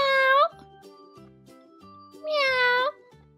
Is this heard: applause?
no